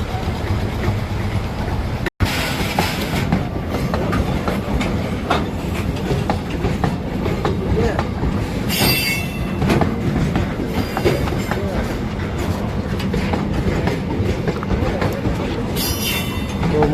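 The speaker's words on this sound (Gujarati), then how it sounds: "મિત્રો ટ્રેન જાય છે કન્ટેનર લોડ કરીને" A long container-loaded freight train rolls past a closed level crossing, loud and close, with continuous wheel rumble, rhythmic clickety-clack and occasional high wheel squeals throughout.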